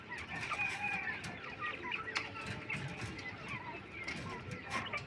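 King quails at a bird-selling setup call in a steady overlapping chorus of short clucking and chirping notes, moderately close, with busy background noise throughout.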